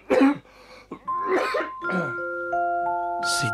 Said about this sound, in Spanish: Si tiene problemas de tos